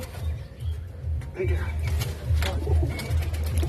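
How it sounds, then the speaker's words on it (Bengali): Pigeons coo close by in low, throaty, repeating calls, with a few faint higher chirps mixed in. "খুব সুন্দর পায়রা"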